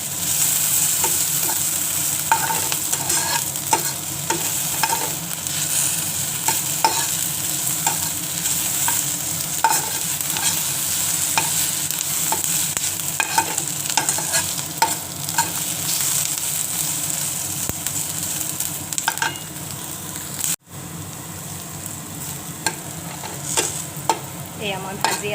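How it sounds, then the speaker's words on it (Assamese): Flattened rice is stirred and fried in a pan for a pulao, giving a long, steady sizzle overlaid with frequent scraping and clattering strokes close by. "এয়া মই ভাজি আছো"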